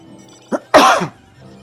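A single close sneeze: a brief sharp intake followed by a louder explosive burst that quickly fades, with nothing else around it.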